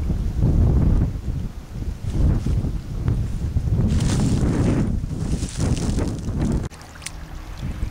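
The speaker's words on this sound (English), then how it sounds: "I'm right off the lake up on that hill, so I'm getting a lot of breeze" Gusty breeze buffets the microphone by a lake up on a hill, a loud low rumbling wind that rises and falls in waves with faint rustling, then drops abruptly near the end.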